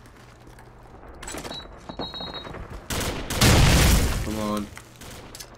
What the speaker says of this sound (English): Pulling out the legendary M6.